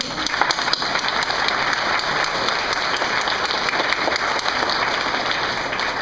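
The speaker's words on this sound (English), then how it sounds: "So give it a round of applause." Loud, dense applause from a crowd at a nursing graduation ceremony, continuous and even throughout without any voice on top.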